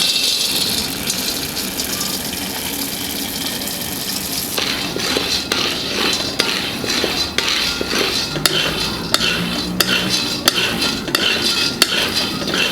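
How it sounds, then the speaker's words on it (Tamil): Raw peanuts roast in a pan over a slow flame, starting as a steady hiss and then turning into rhythmic scraping and rattling as they are stirred repeatedly. "பச்சை நிலக்கடலை நம்ம நல்லா வறுத்துக்கலாம்."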